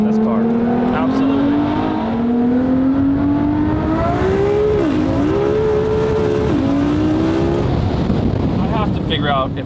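A Lamborghini SVJ engine drones steadily as it drives, its pitch rising gradually with a couple of shifts, loud and close with wind noise around it.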